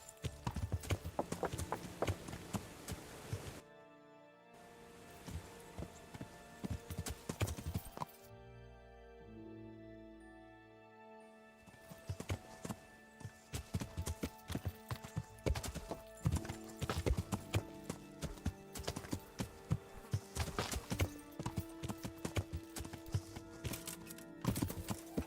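Steady clip-clop of horse hooves while riding in Kingdom Come: Deliverance, a quick, continuous rhythmic trot up close, briefly easing off midway before resuming under faint ambient game sounds.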